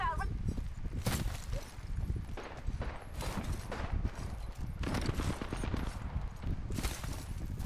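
Gunfire in the video game Apex Legends, with dense bursts of shots and clattering impacts running throughout amid busy game noise, loud and continuous.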